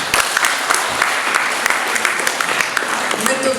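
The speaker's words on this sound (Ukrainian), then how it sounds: "ми сьогодні їх представимо і ви вітайте їх оплесками" An audience at a school community event applauds, steady loud clapping from many hands continuing throughout.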